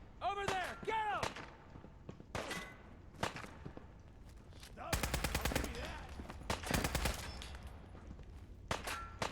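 Rapid bursts of gunfire in the video game Fallout 4, modded survival mode, crackling in dense volleys through the middle of the clip, with voices talking in the first part.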